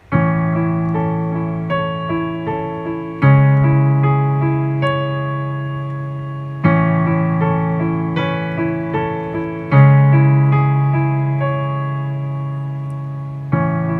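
A piano played with both hands, low bass notes and higher melody together, with chords struck every few seconds and ringing out, no voices.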